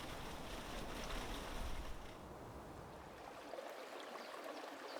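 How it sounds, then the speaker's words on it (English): Water tumbling through tubs of bio-rings in a salmon hatchery water tower, a steady rushing and splashing that eases slightly partway through, close and continuous with no voices. "The water tumbles through tubs of these bio-rings,"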